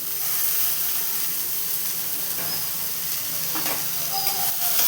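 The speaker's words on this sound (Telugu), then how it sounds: "ఇలా వేయించుకుంటూ మధ్య మధ్యలో కలుపుతూ ఉండాలి" Ragi poha upma fries in a pan with ginger, green chillies and tomatoes, giving a soft continuous sizzle and hiss with occasional faint stirring clinks, close and without talk.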